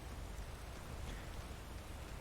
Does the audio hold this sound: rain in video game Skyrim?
yes